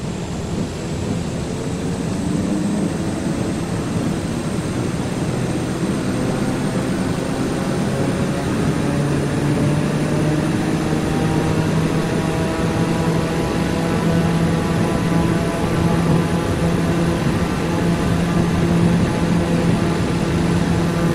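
An airliner takes off in Microsoft Flight Simulator 2020, departing Hamburg: a steady, loud jet-engine roar with rising whining tones builds without a break.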